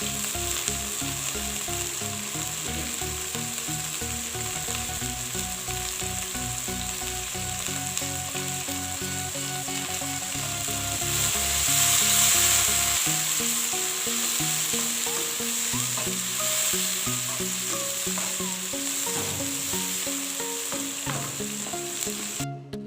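Capsicum frying in a hot pan, a loud, dense sizzle that holds steady and close for the whole stretch, swelling briefly midway, with light stirring knocks near the end and no voices.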